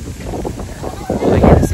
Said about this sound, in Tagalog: Lakas po hangin dito, malamig.